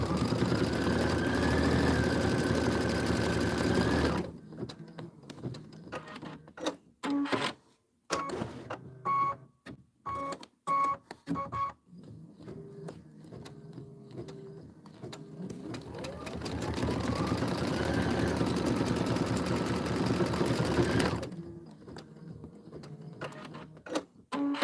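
A sewing machine runs in long stitching bursts along a vinyl tiling seam, a loud mechanical whirring broken by pauses filled with clicks and handling noises, and a voice speaks briefly.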